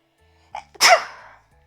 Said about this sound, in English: I need to sneeze